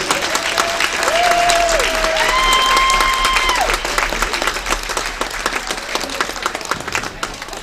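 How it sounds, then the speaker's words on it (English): Sustained crowd applause and clapping for senior athletes at a high school sports event, Oak Leafs vs Cyclones, loud and steady throughout with a few scattered whistles and cheers. "one more big round of applause for all of our senior athletes"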